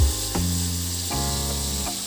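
Garlic sautéing in a pan for rice pilaf makes a constant close sizzle with a low hum, interrupted by a few soft scraping stirs.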